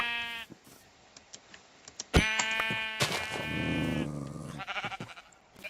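Sheep bleating in a blocky survival crafting game set in a dark forest, several clear, loud bleats one after another with short gaps between them and faint clicks underneath.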